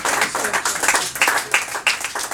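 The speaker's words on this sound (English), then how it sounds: "Thank you for that gratuitous applause." Audience applause after a comedy song at a folk music showcase, a short burst of dense hand clapping from a live crowd, fairly near and steady, with no talk over it.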